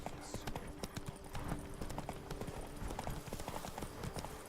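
Horse hooves clip-clop steadily through a game scene in The Witcher 3: Blood and Wine, a continuous rhythmic trot at moderate distance, mixed with ambient game sound and faint voices.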